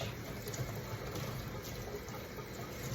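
Running water pours steadily over raw pork being washed, a continuous close splashing and gurgling stream without breaks.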